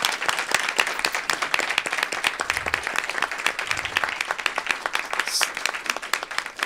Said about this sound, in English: let's give Sophia a big round of applause.